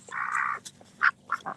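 A duck quacks close by in a garden with thornless blackberries, one drawn-out nasal call followed by several shorter quacks in quick succession, with no talking.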